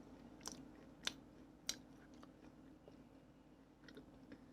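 Someone chews banana bread studded with crunchy nuts close to the mic, soft mastication broken by a few sharp, distinct crunches early on, then quieter chewing continuing.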